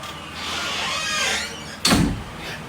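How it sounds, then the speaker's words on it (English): A door scrapes briefly, then shuts with a loud, close thud, followed by a faint click. "Lock the door now."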